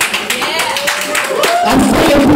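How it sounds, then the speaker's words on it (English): An audience claps in a rapid, uneven patter, building louder toward the end, while someone talks over it. "I'm telling people that are clapping right now."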